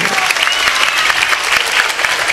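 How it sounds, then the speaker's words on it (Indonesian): Audience applause at a religious gathering, loud continuous clapping close up with crowd noise underneath. "Tepuk tangan untuk suket lau."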